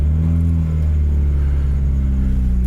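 A supercharged Mazda Miata engine driving at night under light throttle, a loud, steady low rumble with layered engine drone and faint whir continuing throughout, with no speech.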